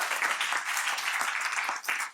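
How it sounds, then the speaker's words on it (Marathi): A session audience gives a burst of dense, continuous applause, many hands clapping together at moderate loudness, steady throughout with a brief dip near the end. "तर आपण त्या सगळ्यांसाठी एकदा जोरात टाळ्या वाजवूया"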